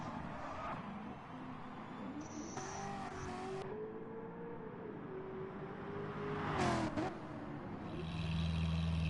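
A Ferrari F40 engine in a racing game revs and drones steadily, with shifting pitch, a brief sharp burst near the end and a louder finish, without talk.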